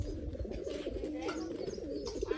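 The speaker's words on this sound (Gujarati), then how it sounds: "અત્યારે કબૂતર છે" Pigeons coo steadily in a low, continuous rolling murmur at close range, with a breezy outdoor background and no talking.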